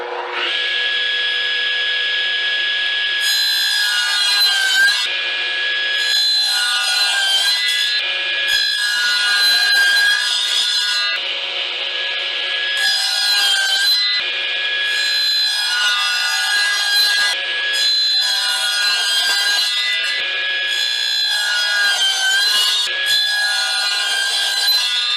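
A power saw cuts through 3/4 inch plywood in repeated bursts, a loud high whine rising and falling as each pass is made, with brief pauses between cuts and no talking.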